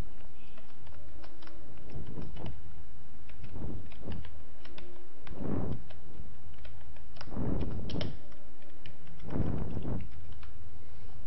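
A computer keyboard is typed on during form-filling data entry, with irregular light key clicks scattered throughout and occasional heavier thumps.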